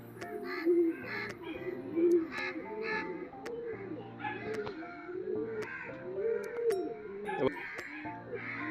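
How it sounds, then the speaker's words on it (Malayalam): Champa pigeons coo repeatedly in a loose, overlapping rhythm, with soft rolling calls from several birds nearby and occasional sharp clicks and knocks. "ഇതാണ് മെയിൽ പ്രാവ്"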